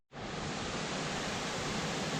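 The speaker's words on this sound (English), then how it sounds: "There's the falls in daylight. Second highest waterfall in Scotland." A steady, dense roar of falling water from the second highest waterfall in Scotland, loud and unbroken with no voices over it.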